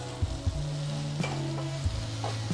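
Spice powders sautéed in a pan for egg tarka, a close sizzle under low steady humming tones, with a few soft thuds of the spoon against the pan.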